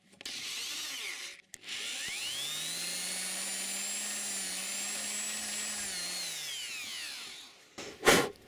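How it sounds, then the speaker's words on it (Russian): A small electric drill spins steadily while backing out a broken stud, its motor whine holding for several seconds before cutting off, with a brief clatter at the end. "И она, значит, прокручивает дрель."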